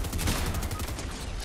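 Gold shotgun blasts in the Fortnite video game ring out close and loud, a dense burst of heavy gunfire filling the short moment.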